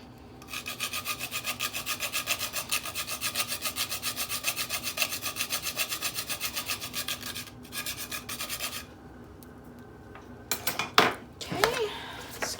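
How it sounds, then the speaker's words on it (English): Mock apple crisp filling being stirred in a bowl, a rhythmic rasping scrape repeating steadily for several seconds, then a pause and a few louder clanks and knocks near the end. "Stir that all around."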